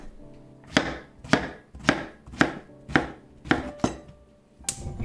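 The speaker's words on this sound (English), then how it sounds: "I'm gonna cut the eggplant in 4. And then just slice it up." Knife chopping eggplant on a cutting board, eight sharp evenly spaced thuds about half a second apart, close and clear with no talk.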